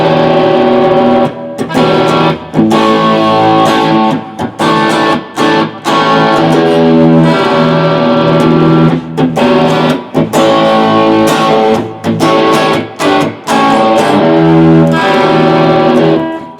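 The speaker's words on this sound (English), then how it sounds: "This is the Seymore Duncan SSL-5 with a little distortion." Stratocaster played through its Seymour Duncan SSL-5 bridge pickup with a little distortion, loud chords and riffs in rhythmic bursts with short gaps between phrases, alone with no talking.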